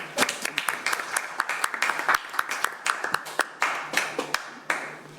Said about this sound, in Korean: 뜨거운 환영의 박수 부탁드립니다